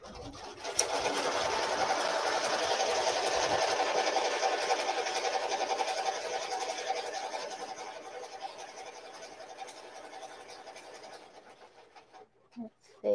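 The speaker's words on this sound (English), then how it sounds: "I'm going to go ahead and do the tack down and the finishing stitch and then take it off." An embroidery machine stitches the tack-down and finishing stitch of an appliqué on a beach bag, with a loud, steady, fast mechanical whirring hum that winds down and stops near the end, faint voices underneath.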